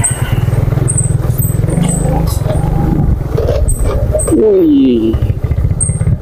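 An off-road palm-plantation car engine drones steadily as it drives over a rough road, with a constant low rumble, close and loud, while people talk and exclaim over it.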